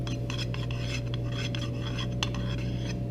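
A spatula scrapes cake icing across a clean table in short repeated strokes, faint and close, over a steady electrical hum with no talking.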